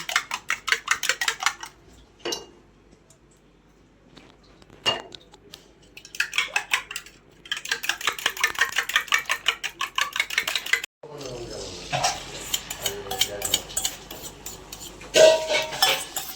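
Eggs seasoned with black pepper and salt are prepared for frying in hot oil. Bursts of rapid, rhythmic clinking of a utensil against a bowl alternate with short pauses, then give way to a steadier hiss of hot oil with scattered clinks.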